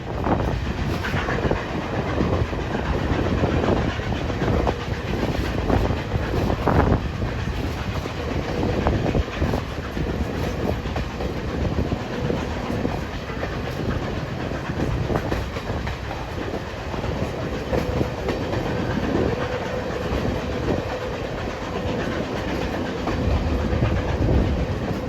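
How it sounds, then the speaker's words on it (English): A heavy train pulled by two steam locomotives at full throttle rumbles along steadily at close range, with continuous engine roar and rhythmic clatter from the wheels for the whole stretch. "both locomotives are working full throttle to try and maintain the speed limit of 25 miles per hour"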